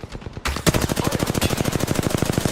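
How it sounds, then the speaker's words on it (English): Rapid automatic gunfire from enemies in the Apex Legends battle royale game, a steady burst of loud, evenly spaced shots running nearly the whole time after a brief quieter lead-in. "The enemies are shooting at me."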